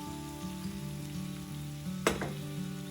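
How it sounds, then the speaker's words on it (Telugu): Chicken pieces fry with masala in a pan, a steady soft sizzle running throughout, broken near the end by one sharp clatter of a spoon or lid. "ఫ్రై కాబట్టి వాటర్ అంతా ఎగిరిపోయే వరకు వేయించుకోవాలి"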